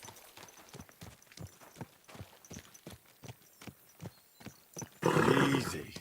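A horse walks with steady clip-clop hoofbeats, evenly spaced and close, then lets out a loud whinny near the end.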